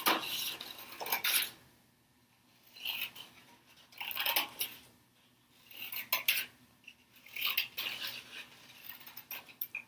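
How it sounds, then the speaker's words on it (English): Scissors cutting out a paper drawing of a firecracker and sun for a shadow puppet, close crisp snips in short bursts separated by quiet pauses. "Now I'm just going to cut it out."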